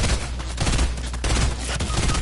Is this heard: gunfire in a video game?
yes